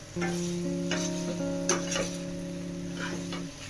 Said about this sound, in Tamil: அப்புறமா கொத்தமல்லியை நல்லா ஒரு கத்து போட்டுட்டு பரட்டி விட்டுட்டு ஆஃப் பண்ணிடலாம்